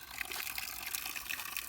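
Cold mountain spring water runs from a spout on a trail in Bulgaria, a steady close splashing trickle with bright hissy texture, faint and continuous with no voices.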